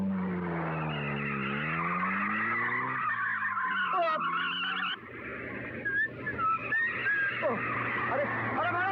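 A car driven fast skids with loud, sustained tyre squeals over a steady engine roar, close and continuous, while voices shout over it.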